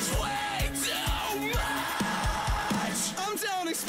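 A harsh vocal scream rides over heavy metal music with pounding drums and distorted guitars, in a song.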